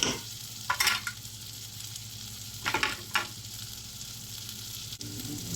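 Ground spices such as chili, turmeric, mixed masala and cumin sizzling in hot oil in a pan, a continuous crackling hiss broken by a few brief stirring scrapes, with no talk.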